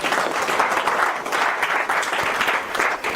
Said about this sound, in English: give a round of applause for Oscar